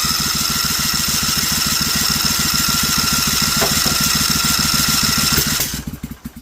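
A rusty-cylinder Vanguard 16HP engine cranks at full throttle with the choke on, a fast rhythmic chugging pulse held for several seconds before slowing and stopping.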